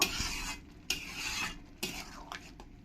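Mushroom masala stirred and scraped in a pan, with three bursts of close, rasping scraping separated by short pauses and a few softer scrapes near the end.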